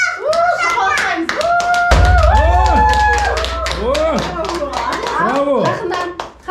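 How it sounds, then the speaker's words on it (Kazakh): A group of people at a gender reveal party clap their hands together with excited cheering and children's shrieks on top, rapid claps heard up close, with a low rumbling blast underneath partway through. "Шапалақтаймыз"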